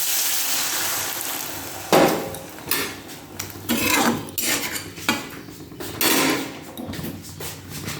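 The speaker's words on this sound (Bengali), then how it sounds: "নাড়াচাড়া করে নিয়ে আমি জল দিয়ে দেবো।" Cauliflower and potato curry is stirred in a pan with repeated scraping and clattering strokes, loud and close, over a steady sizzling hiss.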